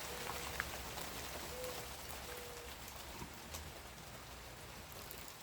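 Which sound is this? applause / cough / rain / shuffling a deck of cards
rain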